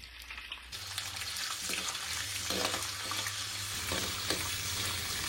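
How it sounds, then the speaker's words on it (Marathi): Dry fruits fry in hot ghee in a kadai on a gas stove with a steady, close sizzle and light stirring clinks, continuous throughout with no talking. "साधारण 2 मिनिटं सुका मेवा तुपामध्ये तळून घेतलेला आहे"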